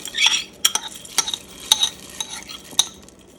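Washed lentils tumble into tomato sauce in a soup pot and get stirred, with sharp spoon scrapes and clinks against the pot over a soft wet bubbling, close and brief.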